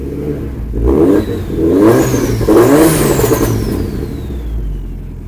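An overheating SAAB car engine revs under throttle nearby in two or three rising surges that swell and fade, ending in a steady lower drone.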